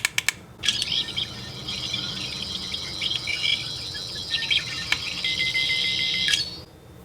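A Doctor Who sonic screwdriver toy emits a pulsing, fluttering electronic whine that runs for about six seconds with faint clicks, close and fairly quiet, with no talk.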